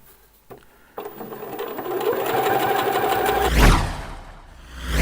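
A sewing machine stitches the neckband into a T-shirt. It starts after a brief quiet moment, then runs at a steady whirring pace, close and clear, before slowing and ending in a low rumble.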